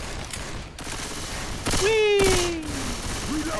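A couple of loud, close gunshot bursts in Left 4 Dead 2 ring out mid-way through, with a whistling tone trailing after them and a voice speaking briefly over the game noise.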